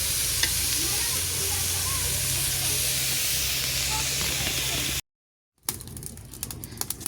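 Onions sizzle and hiss steadily in hot oil at the start of a pangas fish curry, loud and close for about five seconds, then a brief silence and a burst of stirring and clatter.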